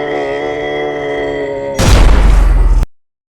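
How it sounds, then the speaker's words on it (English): An explosion in the Scrap Garden video game erupts as a loud, rumbling blast that cuts through a sustained tonal hum, roars for about a second, then stops abruptly into silence. "A deafening explosion jolted the air."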